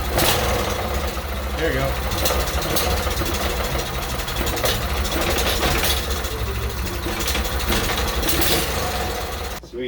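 An Arctic Cat minibike's small engine sputters into life after a spark plug swap, then settles into a steady, loud idle that runs nearly the full length, with someone talking over it.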